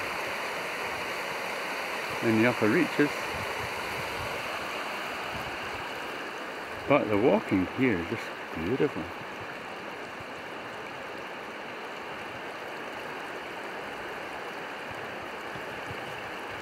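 Little Wangapeka River flowing along a New Zealand tramping track, a steady broadband rush of stream water heard throughout while someone speaks briefly over it.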